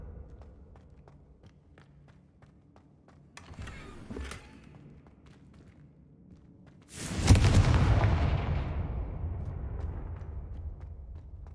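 A Confringo fire spell explodes in Hogwarts Legacy, a loud sudden blast that bursts in mid-clip and rumbles away over several seconds, preceded by quieter footsteps and a smaller magical whoosh.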